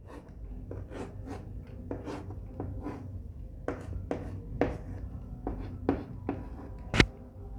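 Marker or chalk strokes on a board as a question is written out, a steady run of short scratchy taps and swipes close by, ending in one sharper knock, with no talking.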